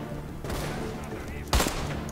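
Gunfire in the first-person shooter Deadfall Adventures: a couple of muffled shots over game background noise, then one sharp, loud report near the end.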